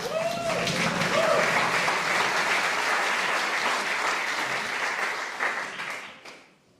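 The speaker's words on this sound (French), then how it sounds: "je vous demande un tonnerre d'applaudissements pour la marionnette de la police nationale" Sustained applause from an audience at a French police puppet show, loud and dense for most of its length with a voice faintly heard at the start, then fading away near the end.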